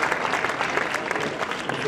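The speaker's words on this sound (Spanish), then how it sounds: "¡Aplausos!" Spectators applaud at a professional tennis match, a sustained crowd clapping of even density lasting about two seconds with no voices over it.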